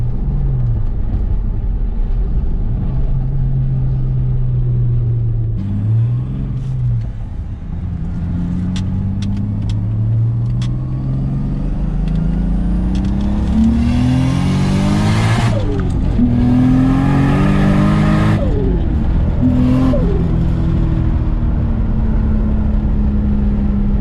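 A Turbo SC car engine heard from inside while driving, a loud droning tone that climbs steadily in pitch, drops at gear changes and climbs again over roughly twenty-four seconds.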